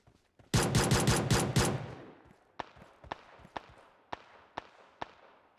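Rapid burst of automatic gunfire in PUBG Mobile, loud and close, followed by a series of single sharp gunshots spaced about half a second apart.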